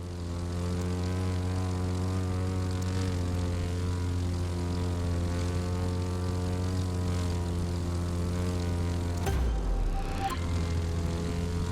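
Propeller airplane flying low over treetops in The Crew 2, a loud steady droning engine hum with rich harmonics, briefly shifting pitch near the end.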